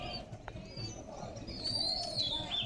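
Released pigeons, including a white female, settle back down after flying and give soft coos. Faint chirps and flutters sound over quiet background noise, growing slightly fuller toward the end.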